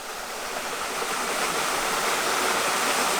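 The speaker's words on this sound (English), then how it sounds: "here's the source of water, this spring coming out of this bluff here" Cold spring water pours steadily out of a limestone bluff into a pool near an old mill site in Missouri, making a close, continuous broadband rush with no talking.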